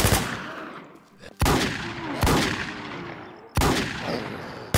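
Gunfire in the zombie survival game Infestation: The NewZ, with four loud sharp shots spaced about a second apart, each trailing off into echoing decay.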